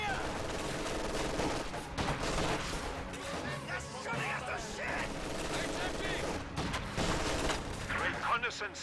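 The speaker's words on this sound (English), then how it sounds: "MG42 setting up to fire on the conscripts right there." MG42 machine gun fire in a WWII real-time strategy battle, heard as steady rattling bursts inside a dense, continuous din of battlefield gunfire and explosions, with voices mixed into the clamor.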